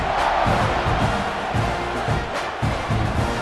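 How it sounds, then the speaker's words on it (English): A stadium crowd in the EA Sports College Football 26 video game roars continuously, with rhythmic swells of cheering and chanting surging every second or so, loud and dense, with no commentary over it. "this crowd now ready to get behind them"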